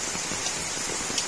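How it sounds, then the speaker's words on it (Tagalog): Heavy rain falls near a chicken coop as a steady, even hiss with scattered drops, with no voices. "Malakas na ang ulan."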